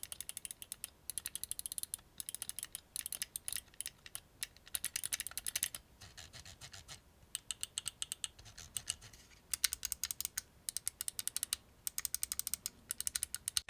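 Rapid, crisp clicks from a WLmouse Beast X gaming mouse, sharp and close, in irregular bursts with short pauses against a quiet background.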